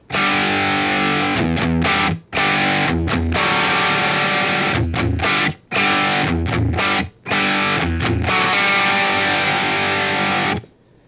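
Loud, heavily distorted electric guitar chugs through the verse riff of a song, with sharp stops and short silent breaks between phrases, playing alone.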